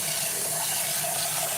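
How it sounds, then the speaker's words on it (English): Water poured off grits being rinsed in a pot, a steady close splashing gush lasting the whole moment, with no voices. "just lightly pour the water out and redo it."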